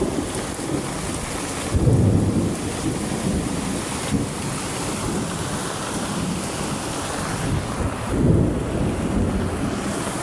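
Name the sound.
thunderstorm with lightning and thunder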